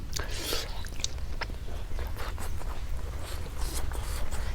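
Someone eats close to the microphone, with crunchy bites and wet chewing in irregular bursts over a low background hum.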